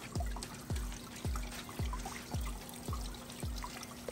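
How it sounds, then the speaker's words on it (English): A DIY hydroponic vegetable garden pump runs close by with a steady low hum and a regular thumping pulse about twice a second, while water trickles and splashes softly throughout. "Okay, you can hear the pump."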